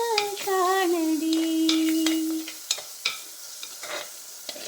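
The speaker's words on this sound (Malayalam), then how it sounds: "ഇപ്പം നമ്മുടെ ഉള്ളിയൊക്കെ വഴണ്ടിട്ടുണ്ട്." Onions sautéing in a clay pot for a traditional Kerala fish curry, with a sustained sizzle, a clear gliding tonal squeak early on, then a series of sharp stirring clicks and scrapes, close and fairly loud.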